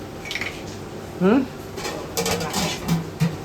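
A metal lid set onto a pot of chicken biryani in a home kitchen, a few short clanks and scrapes of metal on metal amid people talking.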